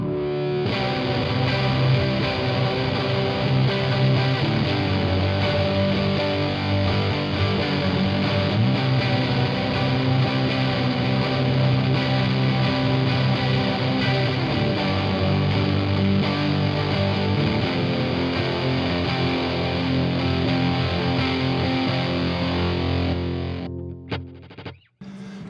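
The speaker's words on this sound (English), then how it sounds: "It's a very short ping pong delay, which is meant to do kind of like a reverse reverb." Electric guitar played through a Memory Man pedal set as a very short ping-pong delay for a reverse-reverb feel, sustained chords with a smeared, echoing wash, steady and loud before cutting off near the end.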